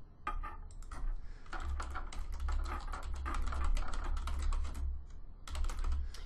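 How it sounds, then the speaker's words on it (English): Rapid typing on a computer keyboard while entering a search, a quick irregular run of close, crisp key clicks with a brief pause near the end. "let's just type a search in this time."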